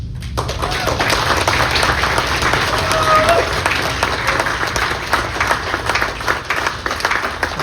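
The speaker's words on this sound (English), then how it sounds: "another round of applause for Butch." Sustained audience applause at a memorial celebration of life, dense steady clapping from a crowd filling the room for the whole stretch, with no speech over it.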